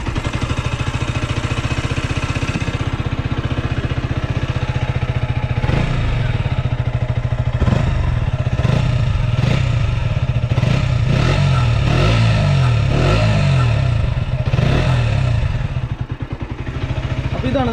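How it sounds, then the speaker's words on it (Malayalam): A 2022 KTM RC 125 BS6 motorcycle with a 125 cc liquid-cooled engine runs close by, holding a steady idle and then giving a series of sharp throttle blips with a rasping exhaust note over a continuous loud drone. "ഞാൻ ജസ്റ്റ് ഇതിൻ്റെ എക്സോസ്റ്റ് നോട്ടൊന്ന് കേൾപ്പിക്കാം"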